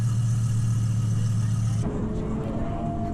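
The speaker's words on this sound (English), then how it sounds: "The startup of this F12." A Ferrari F12 V12 engine at a car show, rumbling steadily and loudly, then abruptly shifting to a rougher, lower idle partway through as it settles after startup.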